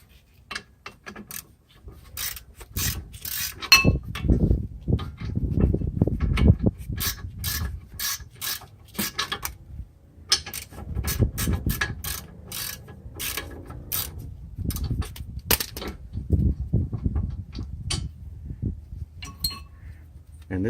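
On a 2005-2009 Mustang, a ratchet works loose the last brake caliper bolt, giving repeated bursts of close, clicking pawl strokes with metallic clinks and rubbing of the tool between them.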